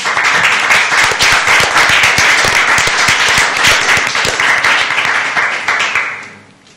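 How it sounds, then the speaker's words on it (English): Loud applause and clapping from a meeting audience at a transportation planning session, dense and steady, then fading away at the end. "give you a round of applause"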